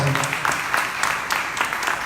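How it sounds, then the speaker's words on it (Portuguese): Brief clapping from an audience for artists at a community cultural event on the outskirts of São Paulo, a moderate, fairly even patter of many hands heard up close. "uma salva de palmas para todos os artistas"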